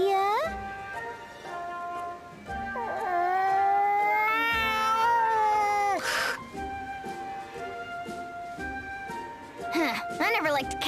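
A cat in the video game Bravely Second meows and yowls in several drawn-out, wavering cries, loud and close, with short pauses between calls and a sharper burst near the end.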